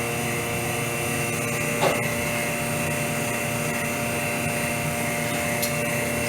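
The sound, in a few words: vacuum pump sucking air from bag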